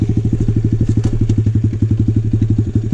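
Apollo RFZ pit bike on a loose, muddy dirt trail, its small engine firing in a rapid, even putter, loud and close, with no talking.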